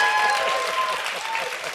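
Continuous applause from a crowd, dense steady hand clapping at close range with voices faintly underneath.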